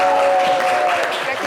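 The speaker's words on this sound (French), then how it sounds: "faites du bruit pour Shekina Yato" A live audience applauds for Shekina Yato during a French-language variety show, steady broadband clapping that fills the short stretch at an even level with a faint tonal hum running underneath.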